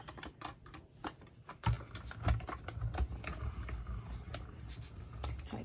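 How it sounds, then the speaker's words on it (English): A paper card frame being run through a die-cutting machine for a whale-watching double Z-fold card, heard as a faint, close run of clicks and a low grinding hum, with no talking. "And we're going to die cut."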